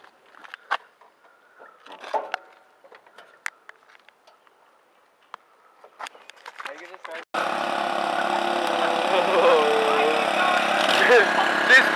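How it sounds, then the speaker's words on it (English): After scattered clicks and light handling noises, a small engine starts abruptly and runs steadily, loud and close, like a riding lawn mower. "This is a great lawnmower you got here."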